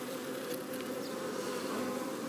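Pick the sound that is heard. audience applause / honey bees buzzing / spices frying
honey bees buzzing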